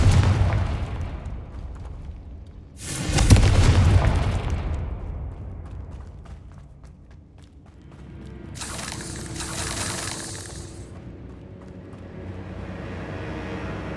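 Confringo fire spell explosions in Hogwarts Legacy on PS5: two loud, rumbling blasts a few seconds apart with long decaying tails, set against ongoing game ambience.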